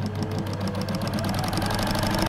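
A sewing machine stitches fabric for a maxi dress, running as a steady, close, continuous mechanical whir with a fast rapid ticking throughout, heard alone.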